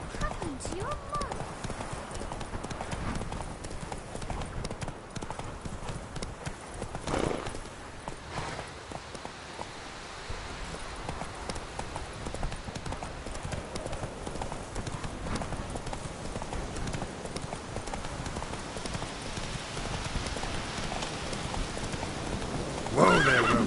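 Geralt's horse Roach in Witcher 3 trotting with steady, moderately loud hoof clip-clops and occasional neighs, with voices talking faintly over the hoofbeats.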